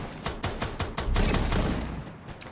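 Gunfire in a battle royale video game tournament: a quick run of single shots builds into a dense, loud burst of rapid fire that then tapers off.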